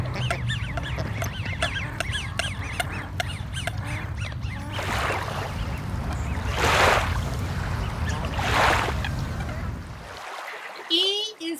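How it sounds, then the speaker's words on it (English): Duck calls in a steady run of nasal quacks and clucking, fairly close and loud, with several louder bursts of calling before the sound cuts off near the end. "D is for duck."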